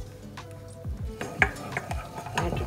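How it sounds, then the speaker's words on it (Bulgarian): Butter melts in a saucepan for béchamel while a utensil stirs and knocks against the metal, giving repeated clinks and scrapes over a light sizzle. "Бъркаме."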